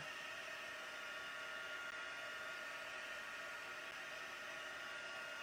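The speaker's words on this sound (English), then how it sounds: "I am just heat embossing my panel here." A heat embossing gun blows hot air over a stamped card panel, a steady, even whooshing hiss like a hair dryer that holds unchanged throughout at moderate loudness.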